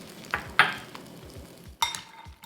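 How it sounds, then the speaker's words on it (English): Tamari poured onto hot roasted almonds sizzles in short bursts while they are stirred, with soft scraping and knocking of the stirring utensil in between. "I love to hear it sizzle."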